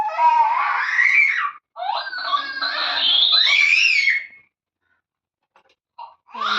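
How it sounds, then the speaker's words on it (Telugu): Several puppies cry and whine in shrill, wavering bursts, two long stretches of loud yelping followed by a pause of quiet and a few short whimpers near the end. "కుక్క పిల్లలు ఉన్నాయి, ఎలా అరుస్తున్నాయో."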